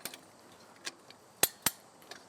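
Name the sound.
ratcheting a fence wire tensioner with tensioning tool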